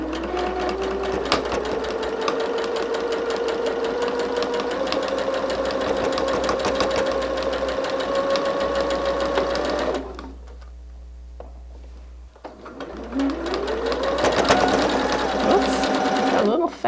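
A sewing machine stitches quilt block seams with a loud, steady mechanical whir that runs continuously, pauses briefly, then speeds back up.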